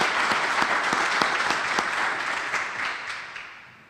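A press conference crowd applauds Assemblyman Fred Thiel with a burst of clapping, individual claps distinct at first, then fading away gradually toward silence.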